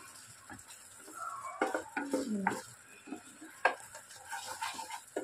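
A paneer kalakand mixture with cardamom is stirred in a pan, producing soft irregular scrapes and thick, sticky clacks of a spoon at close range, fairly quiet overall.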